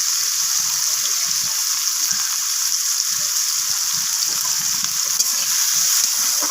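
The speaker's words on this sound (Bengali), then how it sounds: "আমি ভেজে নেব একটা ব্রাউন রং ধরা পর্যন্ত" Onions fry in mustard oil in a pan, giving a continuous bright hiss of sizzling oil with soft bubbling underneath, steady and close throughout.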